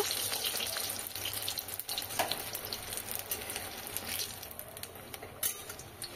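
Pumpkin flower fritters frying in a pan give a soft, steady sizzle with occasional light stirring clinks, fairly faint throughout.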